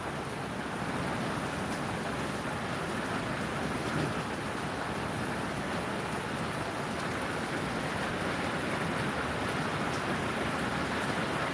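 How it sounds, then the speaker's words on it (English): Steady rain falls continuously in Gboko, a dense even hiss of drops with no breaks, close and fairly loud throughout. "It's raining, guys."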